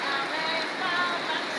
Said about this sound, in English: We expected this much rain.